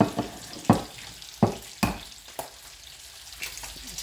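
Eggs go into a hot frying pan and sizzle quietly and continuously nearby, broken by several sharp taps and clacks at irregular intervals, likely shells cracking and utensils knocking.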